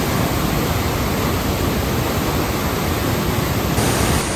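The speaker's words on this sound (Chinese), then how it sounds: "抵达精英瀑布，哇、哦，超壮观的" Jingying waterfall roars as a steady, loud, dense wash of falling water, constant and unbroken from start to finish with no voices over it.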